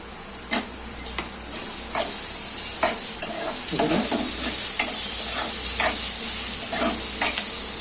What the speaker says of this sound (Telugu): తర్వాత మనం ములక్కాయలు వేసుకుందామండి